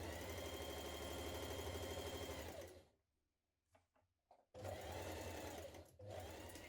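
Sewing machine running a stretch stitch along a T-shirt seam, a steady close mechanical whir and rapid needle chatter that stops for a pause with a few small clicks, then starts again and runs on.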